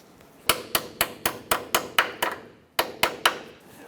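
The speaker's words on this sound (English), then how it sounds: "I'm just going to use a pick and I'm just going to tap it to get it through the eyelet of our cotter pin here." A metal pick is tapped through the eyelet of a cotter pin on the lower control arm of a 1994-2004 Chevrolet S10, giving a series of sharp, close metallic taps in a steady rhythm, about ten strikes with a short pause.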